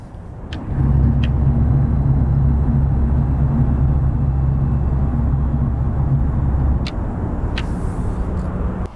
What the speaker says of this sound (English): So when you put it in drive, it emits this rumbling noise.